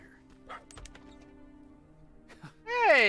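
A small dog or puppy barks in the video game Terminator Resistance, a few sharp yips early on, followed by a louder whining, wailing cry near the end.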